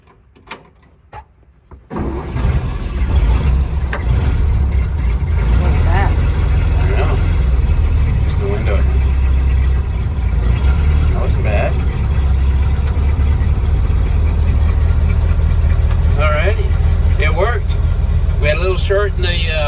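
A 1931 Ford Model A pickup engine catches and settles into a loud, close, steady idle after a quiet start, with someone talking intermittently over it.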